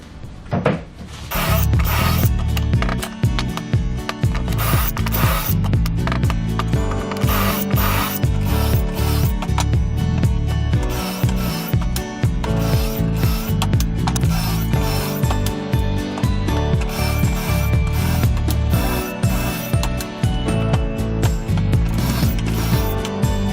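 A power drill drives screws into the wood of a DIY workbench with shelves, a loud, close ratcheting whir in repeated bursts with short pauses, continuing throughout without talking.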